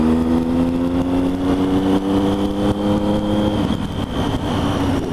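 A Ducati motorcycle passing on a street in the Thames area, a droning engine note that shifts as it goes by, heard over the steady rumble and wind of a rider's own Triumph Street Triple R.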